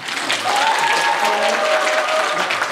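Audience applause at a book concert and publication celebration, dense sustained clapping from a crowd filling the room, with faint voices underneath.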